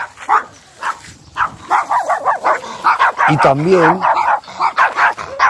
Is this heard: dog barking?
yes